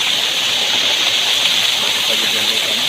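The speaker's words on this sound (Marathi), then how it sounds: "कुठून पाणी वाहून येते आणि हेच पाणी इथून" Water from a forest stream flowing downhill over rocks, a steady broadband rushing that stays loud and unbroken throughout, close by, with no voices over it.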